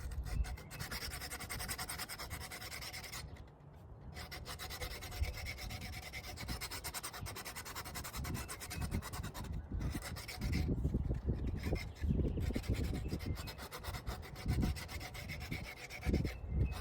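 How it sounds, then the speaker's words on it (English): Rough-grit sandpaper rubbed by hand over a repaired sculpture of a hippie head, a steady continuous scratchy rasp with brief pauses and stronger, heavier strokes toward the end, close and alone without talk. "with this rough grit, and start taking that down. It actually sands pretty easily."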